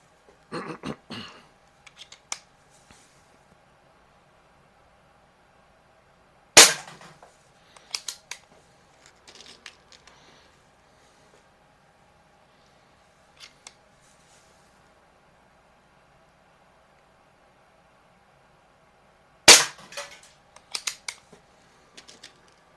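Sparse sharp cracks from air pistols, a Webley Nemesis SSP and a Crosman Silhouette PCP, going off one at a time with long quiet gaps and small handling clicks between shots.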